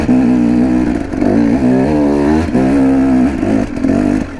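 A KTM 300 motorcycle engine runs loud and close, its pitch climbing and then dropping several times as it moves up through fourth, fifth and sixth gears.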